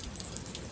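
Heavy rain pours steadily onto a garden during Storm Hilary with no wind, a dense even hiss of drops with a few sharper splashes and no voices.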